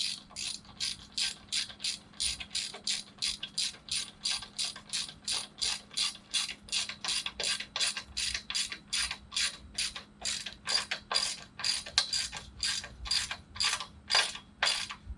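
A ratchet wrench tightens a wind brace on a DIY greenhouse, giving a steady run of close, crisp clicks in quick regular bursts that continue throughout.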